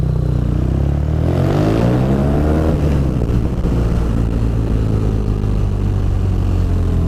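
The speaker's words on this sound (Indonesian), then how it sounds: "Wah, truk sampah bro." A garbage truck passes on the road with a loud rising and falling engine rumble and clatter, heard close up over the steady drone of a BMW R nineT motorcycle being ridden.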